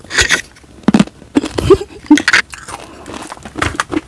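Melinjo nut crackers (keripik melinjo) crunch in close, loud bites, with several crisp bursts spaced irregularly across the stretch and no talking.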